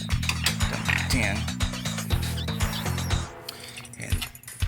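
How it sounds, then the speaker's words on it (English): A ratchet wrench loosens the alternator nut on a Toyota Camry with rapid, loud, close clicking in bursts. Someone speaks over it, and a dog barks in the background. "Take the nut loose from top of the alternator."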